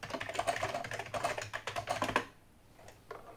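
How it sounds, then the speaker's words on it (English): Fingers typing on the non-mechanical keyboard of an SB-2000 8-bit computer from China, a quick run of soft close keystroke clicks lasting about two seconds, then a pause and a couple of quieter taps. "but it feels great typing on it."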